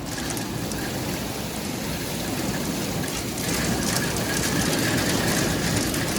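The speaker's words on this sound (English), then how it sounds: "Oh, it's hailing!" Hail hitting a window, a dense continuous patter of rapid impacts with a steady hiss that grows slightly louder midway, close and with no voices.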